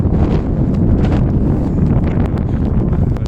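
Strong wind blows outdoors in stormy weather, a loud continuous low roar buffeting the microphone for the whole stretch, with no talking.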